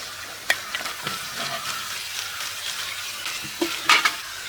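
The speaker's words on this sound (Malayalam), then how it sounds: "എണ്ണ ചൂടായിട്ട് നമുക്ക് അരിഞ്ഞ കുറച്ച് പച്ചക്കറി ഐറ്റംസ് ഉണ്ട്, നമുക്ക് ഇട്ട് കൊടുക്കാം." Chopped vegetables and capsicum sizzle steadily in hot oil in a pan, with occasional stirring scrapes and clinks close by.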